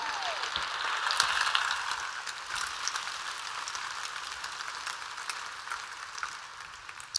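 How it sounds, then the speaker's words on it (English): Sustained audience applause at a keynote talk on privilege, a broad even patter of many hands clapping that holds steady for several seconds and tapers slightly at the end. "let's give them applause for the vulnerability"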